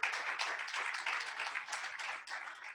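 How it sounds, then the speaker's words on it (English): Brief burst of scattered clapping from a small audience, moderately loud and fairly even throughout. "I think the company deserves a better round of applause."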